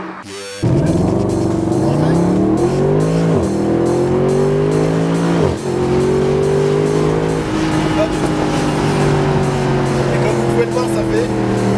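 A Mercedes SLS AMG Roadster V8 revs hard and accelerates close up, loud and continuous, with rising harmonic sweeps through several gear changes and a brief tire squeal.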